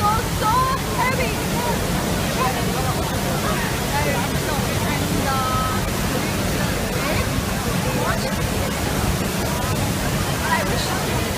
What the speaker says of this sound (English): you can see the force of the water is falling over the hills